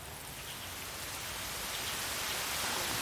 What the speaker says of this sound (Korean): 갑자기 내리는 비.